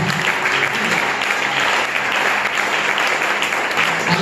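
A church congregation at a Sunday worship service breaks into loud, continuous applause and acclamation, close and dense clapping with a few voices calling out beneath it.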